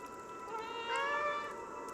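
A cat meows in the video game Stray, a single drawn-out, rising then falling meow that sits close and fairly quiet over faint background ambience.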